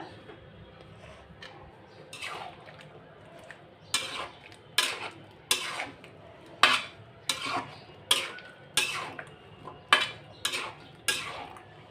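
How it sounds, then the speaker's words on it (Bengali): Whole garlic and green mango pickle being stirred in a pan, a utensil scraping and clinking against the metal in a regular series of quiet strokes, with no talking. "এই যে রসুন দিয়ে আবার একটু নেড়ে চেড়ে দিলাম আমের সাথে"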